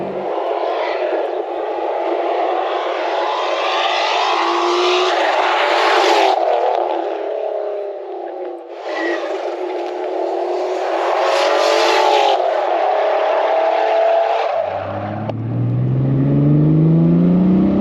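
A VR6 turbo car with a newly built exhaust, heard close as it drives and revs hard through the gears, with sustained rising engine pulls broken by brief gear-change dips and a final climbing rev, no talking.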